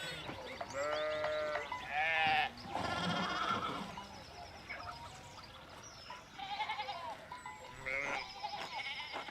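Sheep bleat repeatedly in the medieval-set video game Pentiment, several loud nearby calls in bursts across the scene, mixed with game character voices talking over and between them.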